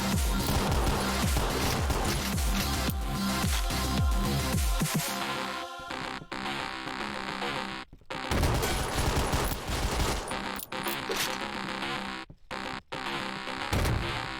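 Pistol gunfire in the top-down action game OTXO: loud, dense volleys of rapid shots and impacts that run almost without pause, with brief drops in between bursts.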